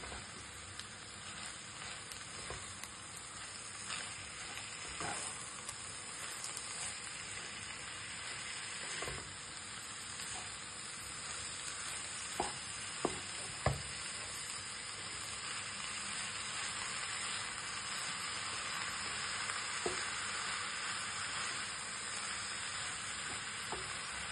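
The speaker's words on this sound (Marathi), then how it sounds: "चांगलं परतून घ्यायचं आणि त्याच्यात मग आता पालक टाकायची।" Fresh spinach sautéing in a pan, a soft continuous frying hiss and sizzle with occasional spatula taps and scrapes across the pan, fairly quiet and close, with no speech.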